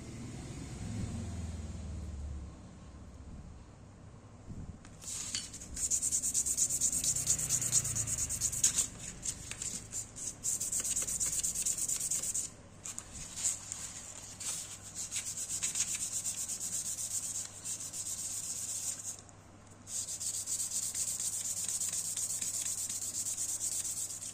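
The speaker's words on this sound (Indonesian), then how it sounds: "Lalu bagian asnya juga ya kita sedikit amplas." Steady rubbing of sandpaper on the metal plate and shaft of a Yamaha X Ride oil pump, a dry hiss repeated in back-and-forth strokes with short pauses, close and moderately loud, with a low hum underneath.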